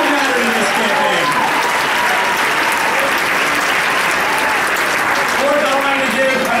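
Continuous loud applause from a crowd at a political campaign victory speech, dense clapping and cheering sustained throughout with voices mixed in.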